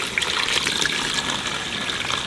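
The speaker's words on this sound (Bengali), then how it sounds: "আদা রসুনটা একটু ভাজলাম, এবার জল দিয়ে দেবো।" Water gushes steadily into a pan of fried onions and ginger-garlic paste for a chicken dum biryani, a loud, continuous close-up pour with no talk.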